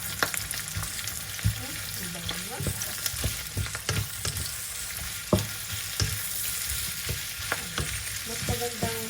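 Onion and pork fry in a pan with a steady hissing sizzle, broken by sharp clinks and scrapes of stirring, close and continuous with no talk.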